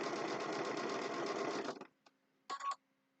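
Sewing machine stitching a quilt block runs in one loud, steady burst, stops with a few small clicks, then gives one more short run.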